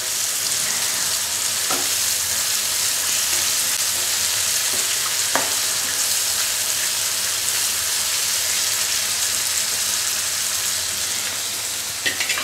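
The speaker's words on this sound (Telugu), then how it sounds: "ఈ టొమాటో ఆనియన్స్ అన్నీ కూడా బాగా ఫ్రై అయిపోవాలి ఫ్రై అవడం అంటే హైలో పెట్టి ఫ్రై చేసేయడం కాదు మీడియం ఫ్లేమ్లో పెట్టి ఫ్రై చేయాలి" Tomatoes and onions fry on a medium flame for an egg masala curry, giving a dense, continuous close sizzle with a few faint scraping stirs. It stays steady throughout, with no voices.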